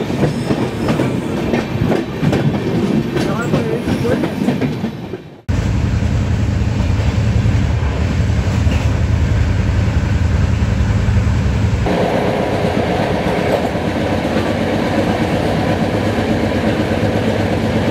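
The Padatik Express passenger train rolls along the rails with a loud, continuous rumble and clatter heard close up, shifting abruptly in tone partway through, with no voices.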